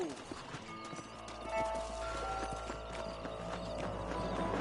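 Horses clip-clop over ground in the Red Dead Redemption video game, a steady run of hoof strikes heard alongside a musical score and ambient game sound.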